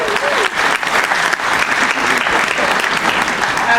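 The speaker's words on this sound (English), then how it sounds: "Give him a round of applause." At a lively show on Iona, a crowd claps loudly for a man married 53 years, the applause close and full, with a few sharper individual claps standing out in a steady burst lasting around four seconds.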